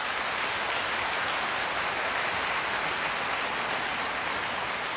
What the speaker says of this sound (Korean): 지금까지 고생해주신 여기 우리 오케스트라 선생님들께 다시 한번 큰 박수 부탁드립니다